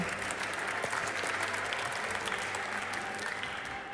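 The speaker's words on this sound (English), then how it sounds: "Big applause, thank you." An indoor audience at a women's handball championship draw ceremony breaks into sustained applause, dense steady clapping from a large crowd that holds throughout and begins to fade slightly at the end.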